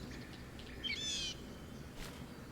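A bird in Baldur's Gate 3 gives a brief, faint warbling call of a few quick rising chirps, followed by a soft flutter against a quiet ambient background.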